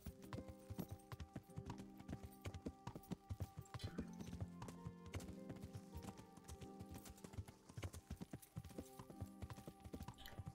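Horse hooves clip-clop steadily and close while riding in the medieval game Kingdom Come: Deliverance, a brisk rhythmic trot over a bed of layered music.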